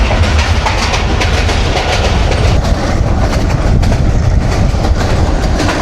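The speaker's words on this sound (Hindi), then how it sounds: "हम इसी शटल ट्रेन में सफ़र करेंगे" A PDK shuttle train running on the rails in Pakistan, heard from inside as a loud, continuous rumble with rhythmic clickety-clack of wheels over joints, alone with no voices.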